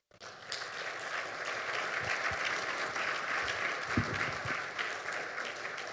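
An audience at a business talk on creativity and innovation claps steadily for several seconds, a dense, even wash of many hands filling the room with no speech over it.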